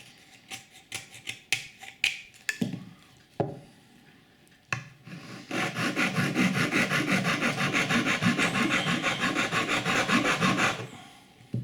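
A saw cuts wood while a Native American flute is being made: a few sharp, irregular scrapes and knocks first, then a steady run of fast, rhythmic back-and-forth sawing strokes, close and loud, ending abruptly.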